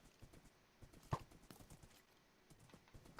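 Horse hooves clip-clopping in the Minecraft video game, quiet, steady and fairly quick, with one sharper thud partway through and no voices.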